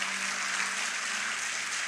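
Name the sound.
congregation applause in church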